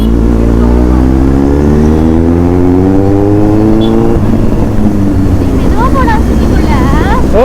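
A Kawasaki Z800 motorcycle carries a rider and passenger, its engine note rising steadily under acceleration, dropping at a shift and climbing again, loud and close, with voices talking over the ride.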